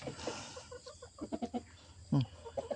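Rhode Island Red chickens cluck in short, choppy bursts nearby in a backyard coop, a few louder squawky notes standing out over a quiet background.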